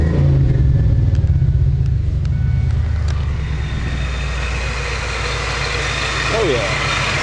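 A supercharged 1997 Ford Mustang Cobra idles close by with a loud, steady low rumble that holds even throughout.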